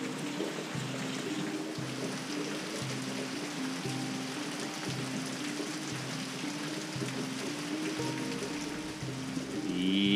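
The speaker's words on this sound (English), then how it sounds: "Yep, and the rain continues." Steady outdoor rain falls continuously in Cullowhee, North Carolina, a dense even hiss with dripping and trickling water throughout, fairly close, with no talking.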